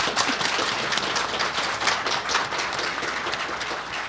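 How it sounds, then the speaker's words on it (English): Audience applause at a symposium panel on communicating for change, dense steady clapping from many hands filling the room throughout at an even, moderately loud level, with no talk over it. "They all deserve a round of applause."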